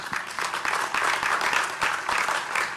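Applause from an event crowd gathered to honor Leonard Levy at a Tampa Bay Buccaneers Super Bowl LV legacy gathering, a steady dense clapping that holds at an even level for a few seconds.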